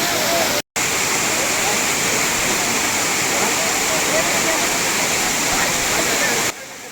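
Bhushi Dam's waterfall rushes after rain in a loud, dense, unbroken roar of pouring water. It cuts out for a moment and fades slightly at the end.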